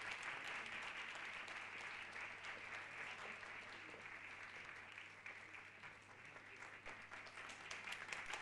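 Sustained audience applause at a music school concert, dense overlapping clapping that holds steady for several seconds before swelling slightly at the end, heard from within the hall.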